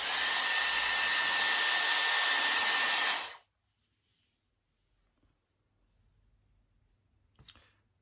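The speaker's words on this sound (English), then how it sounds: "I am gonna blow dry it for you today" Hair dryer blow drying a man's long hair, roaring loudly and steadily up close for about three seconds, then switching off into near silence with faint handling sounds.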